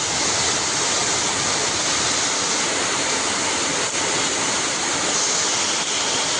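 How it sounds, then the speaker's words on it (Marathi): Heavy rain pours down hard and unbroken during a sudden first monsoon downpour in a Konkan village, a loud, dense, hissing roar. "जाम खूप पाऊस आहे."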